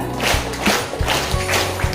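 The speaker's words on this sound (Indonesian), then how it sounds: "Tepuk satu, tepuk dua, tepuk tiga, empat, tepuk satu," Children in an Islamic Ramadan program clap a counted rhythm game, sharp claps landing in small groups of one to four, fairly close and loud over a busy room.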